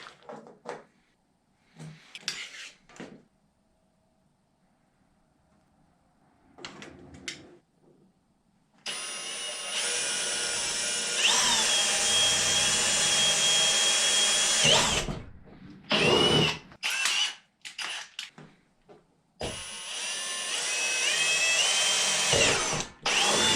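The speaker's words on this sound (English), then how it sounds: "once I have all the holes drilled, I'll get right back with you guys" A power drill bores holes into the original cab of a Kubota BX tractor while LED cab lights and a strobe are installed, with long loud whining runs broken by pauses, short bursts and faint handling knocks.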